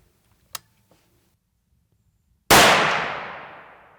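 A rifle fires a 165-grain American Whitetail tipped bullet at 2,200 feet per second from a straight-wall deer cartridge: one loud, sharp report with a long fading tail, after a faint click and a quiet lead-in.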